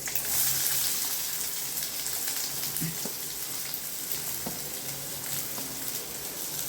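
Chopped onion frying in hot oil with whole spices while making mutton kola urundai: a steady close crackling sizzle throughout, with a few faint taps of a spoon against the pan.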